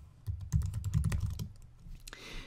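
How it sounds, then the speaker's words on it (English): Rapid typing on a computer keyboard, a close burst of clicky keystrokes for about a second and a half, followed by a few slower taps. "So let's just start typing Internet Explorer."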